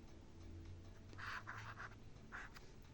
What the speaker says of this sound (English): Let's write the word full